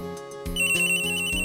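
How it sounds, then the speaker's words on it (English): A phone rings in the Ace Attorney video game, an electronic ringtone with repeated pulsing tones and a high sustained beep, loud and clear with no talking. "That was your phone."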